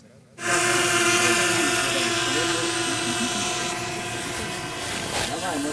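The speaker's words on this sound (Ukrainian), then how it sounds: "Дрон на волоконно-оптичному кабелі, на оптоволокні." A drone controlled over a fiber-optic cable flies nearby with a loud, steady, high-pitched buzzing whine that holds level for several seconds.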